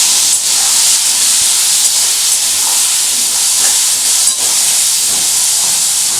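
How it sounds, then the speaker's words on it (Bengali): Potatoes seasoned with turmeric and salt fry in a covered pan, making a loud, continuous, even hiss of sizzling oil with no breaks. "বন্ধুরা দেখো আলুটা ভাজা হচ্ছে"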